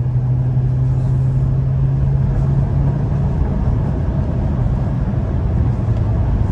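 2013 Ford Focus driving while scrubbing the clutch, a steady loud engine and road drone from inside the car with a low hum that fades slightly partway through.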